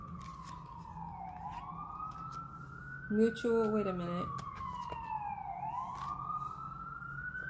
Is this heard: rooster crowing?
no